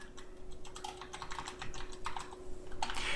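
Quiet, rapid tapping of keys on a computer keyboard as code is typed, an uneven run of soft clicks with no speech.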